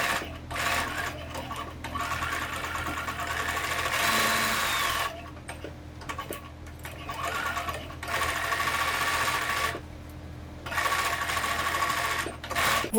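Sewing machine stitching a fabric pocket onto a Japanese knot bag, close and steady whirring in several runs separated by short pauses.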